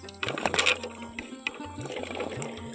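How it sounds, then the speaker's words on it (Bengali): Indian gooseberries (amla) drop into a pot of water, a few soft plops and splashes in quick succession, close, followed by lighter sloshing and small knocks. "এই জলের মধ্যে আমি দিয়ে দেব আমলকিগুলো"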